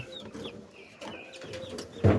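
Farm birds, chickens or pigeons, moving about and clucking in a coop, with soft scattered calls and rustling throughout and a louder burst of activity near the end.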